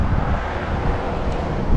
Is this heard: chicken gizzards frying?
no